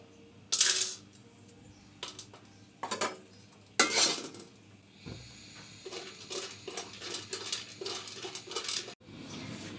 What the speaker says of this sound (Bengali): এই চীনা বাদামটাকে একটু আমি হালকা করে বেজে নিচ্ছি